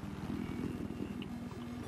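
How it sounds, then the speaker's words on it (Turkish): Scout helicopter in Battlefield 4 on the Flood Zone map, a steady low rotor chop and engine drone heard alone at moderate level without a break. "Helikopter."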